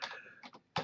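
Short bursts of key clicks on a computer keyboard while entering a Linux command, a few quick taps followed by a sharper final keystroke, close and alone.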